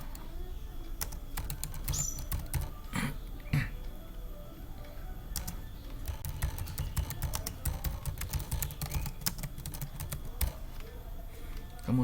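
Computer keyboard typing, a steady run of quick light key clicks at close range with a low room hum underneath, heard while someone fills in a Google Form.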